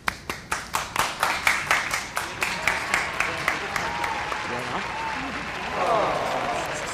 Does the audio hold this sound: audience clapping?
yes